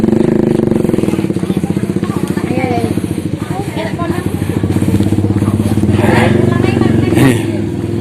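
Motorcycle engines idle and rev in a crowded parking lot at Bukit Mongkrang, a steady near rumble with rising surges, layered with the babble of a crowd and occasional clatter.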